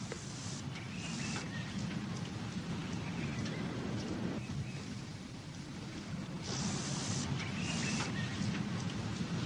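Heavy night rain pours steadily over the African savanna, a dense continuous hiss with low, rolling thunder rumbling beneath it and brief surges in intensity.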